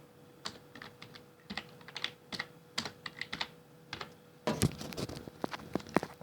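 Close keys clatter on a computer keyboard in short, irregular bursts of taps, getting faster and denser toward the end, in a quiet room with no talking.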